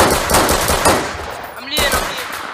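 Gunfire during a raid in a video game: a rapid run of close shots that fades, followed by a sharp crack near the end.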